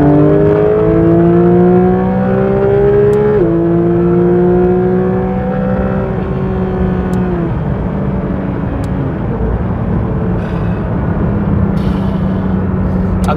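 Porsche 911 GT3 engine revving hard with a sequence of downshifts, its stacked harmonic tones sliding down in pitch with each shift, loud and close throughout against steady road roar.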